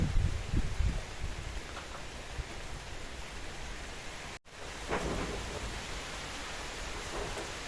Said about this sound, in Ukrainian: Бачиш, який дощ знову.